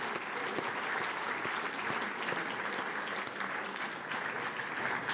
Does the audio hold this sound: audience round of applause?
yes